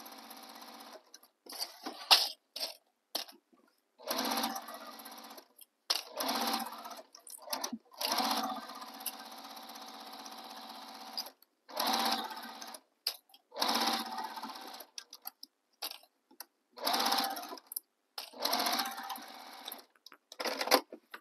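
Sewing machine stitching a tote bag lining seam in repeated bursts of whirring, each a second or two long, separated by short pauses, close and moderately loud.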